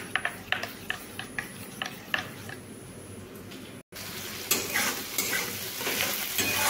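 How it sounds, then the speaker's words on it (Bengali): A spiced green plantain mixture with coriander powder and Maggi masala is stirred in a frying pan, with a steady sizzle and a run of quick spatula scrapes and knocks, a short gap, then louder frying and stirring. "এবার আমি এই সবগুলোকে একসঙ্গে ভালোভাবে এইভাবে মিশিয়ে নিচ্ছি"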